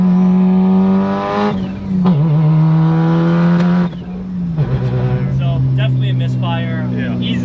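A Mitsubishi Evo 8 engine revs loudly and close up, its pitch climbing and then stumbling and dropping back as it misfires, with rough, uneven bursts repeating over several seconds.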